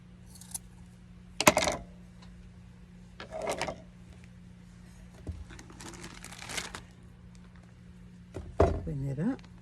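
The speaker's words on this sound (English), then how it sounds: "Now I'm gonna use my fabric scissors." Fabric scissors cutting flower stems for a shabby chic wedding bouquet: a few sharp, close snips and rustles spaced apart, with some clinking handling in between and no clear talk.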